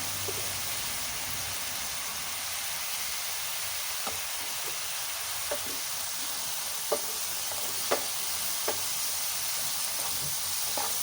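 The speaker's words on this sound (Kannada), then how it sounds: "ಸ್ವಲ್ಪ ಕರಿಬೇವು ಹಾಕೋಣ ವಾಸನೆಗೋಸ್ಕರ." Curry leaves frying in oil for a spinach and lentil pappu, a soft steady hiss with scattered sharp crackles and pops growing more frequent toward the end, no voices.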